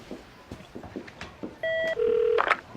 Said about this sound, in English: get Ashley on the phone